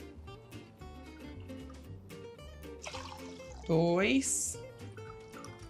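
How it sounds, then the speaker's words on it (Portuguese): Cold water pours into a pot of rice in a home kitchen, a brief liquid splash and gurgle that rises in pitch, faint under a woman's speech. "E na mesma medida que eu fiz o arroz, eu vou colocar a água fria."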